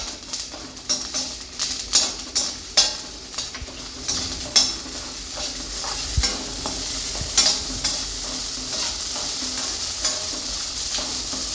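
Whole spices with cloves and poppy seeds dry-roasting in a pan, a run of scraping stirs and light clinks over a faint steady sizzle, close and fairly loud with no talking.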